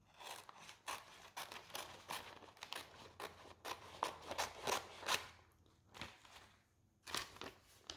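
Scissors snipping through paper transfer sheets for decorating a painted trunk, a quick, irregular series of close crisp cuts and rustles.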